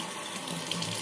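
Running tap water splashes steadily in a sink as a dirty makeup brush is dipped and rinsed under the faucet, a close, continuous hiss and trickle with no talking.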